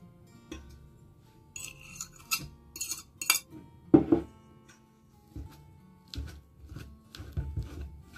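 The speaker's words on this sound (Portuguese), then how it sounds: "Eu começo misturando a massa da quiche com o garfo" A fork clinks and scrapes in a bowl as quiche dough of plain flour, margarine, salt, egg and yolk is mixed, giving irregular close scratches and taps with a few sharper clinks, no talk.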